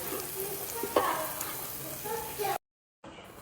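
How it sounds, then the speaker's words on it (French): Butter and a garlic clove sizzle in a pan with a steady crackling fry and a few louder pops, while a person talks over it before the sound cuts out briefly. "J'ai mis une noisette de beurre avec une gousse d'ail. Je vais laisser ça revenir rapidement."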